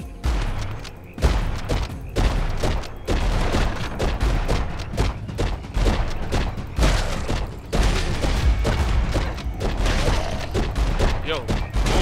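Continuous bursts of gunfire from a weapon in the zombie video game Dead Island Epidemic, loud and dense for the whole stretch, with booms mixed in and someone talking over the shooting.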